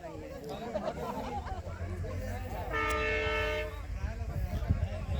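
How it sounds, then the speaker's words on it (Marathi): A test train arrives at Beed station on the new Vighnwadi–Rajuri line, its horn blaring one long sustained blast over a rumbling engine, with excited voices talking loudly throughout. "बीडमध्ये प्रथमच ट्रेन येत आहे"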